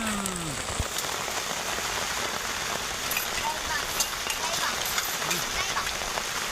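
Steady rain falls on a surface outdoors, a dense, constant hiss with scattered drop impacts, while voices talk faintly over it.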